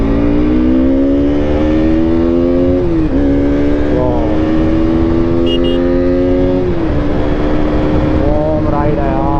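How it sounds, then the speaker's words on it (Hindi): An RC car pulled away under power, a high whining electric motor rising in pitch in repeated surges, loud and close, with short drops between pulls. "थोड़ा सा खींचते हैं अपनी आरसी को"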